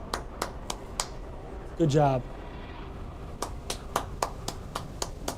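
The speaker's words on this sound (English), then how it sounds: "Let's give him a clap." A small group clapping for a performance gives a steady run of sharp, separate claps, close and fairly crisp, that pause briefly while someone speaks and then pick up again.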